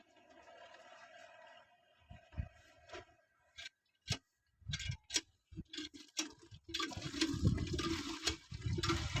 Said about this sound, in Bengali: জল নিয়ে নিয়ে এখন সবজি ধাওয়া হবে